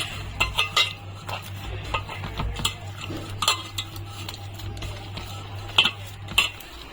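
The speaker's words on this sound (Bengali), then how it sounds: "এখন আমি অল্প অল্প জল দেব, ওর মধ্যে দিয়ে ব্যাটারটা তৈরি করে নেব" A spoon stirs semolina and yogurt idli batter in a bowl as water is added, with repeated scraping and clinking against the bowl, close and steady, with no talk.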